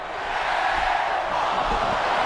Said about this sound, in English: And listen to the crowd right now.